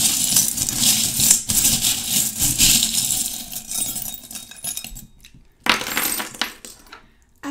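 Small metal charms rattle and clink as they are shaken and cast for a divination reading, a busy jangle of tiny metallic taps that stops briefly and then returns in a shorter burst.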